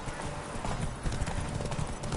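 A horse gallops in the Witcher 3 video game, with steady rapid hoofbeats close and loud across the whole stretch and game ambience underneath.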